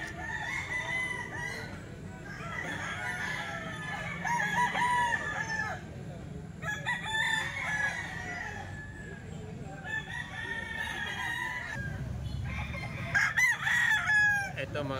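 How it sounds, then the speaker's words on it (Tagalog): Roosters crow repeatedly amid clucking chickens at a poultry sale, several long rising calls overlapping and fairly close, with a steady background of fowl noise throughout. "Gandang manok oh."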